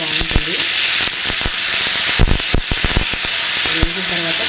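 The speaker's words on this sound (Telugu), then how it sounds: "చూసారండి పోపు గింజలు వేగిపోతున్నాయి" Mustard seeds, red chillies and dried curry leaves sputter in hot oil for a tempering, a close, loud crackling sizzle full of sharp popping bursts, with no talking.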